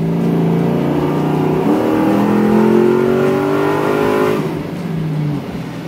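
A 1977 Pontiac Firebird with a swapped LS3 V8 revs through a stainless dual exhaust, rising and falling engine note heard close and loud for several seconds, no talking.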